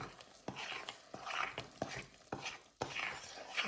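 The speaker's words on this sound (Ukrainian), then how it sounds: "Гарненько все перемішуємо" Dough mixture with egg and melted butter being stirred in a bowl, giving repeated soft scraping and swishing strokes in an uneven rhythm, close and fairly quiet, with no voices.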